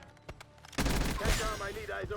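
Sustained XM4 assault rifle fire in Black Ops 6 roars in loud after a brief pause, dense overlapping shots continuing to the end with a little talk underneath.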